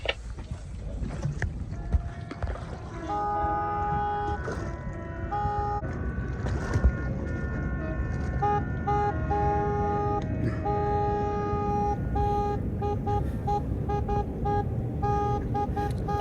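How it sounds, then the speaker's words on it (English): A classic wooden boat's diesel engine roars at a Moreton Bay festival of classic wooden boats, a steady rumbling drone with horn-like tonal blasts sounding repeatedly over it, fairly near and continuous. "I hope you can hear the roar of diesel there."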